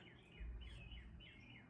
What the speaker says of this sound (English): You guys hear the birds chirping?